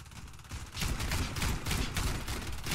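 Gunfire in the online shooter Warface: a rapid burst of weapon shots crackles close and loud, then continues in dense repeated volleys for the rest of the moment.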